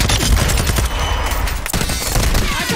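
Rapid bursts of automatic gunfire in Call of Duty: Warzone 2.0 rattle continuously, loud and close, with a sharp shot standing out near the end.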